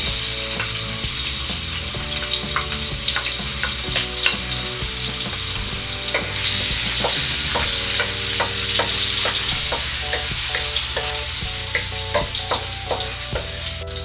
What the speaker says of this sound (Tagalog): Mainit na po ang ating mantika, so magigisa na po tayo. Uunahin ko po ang luya.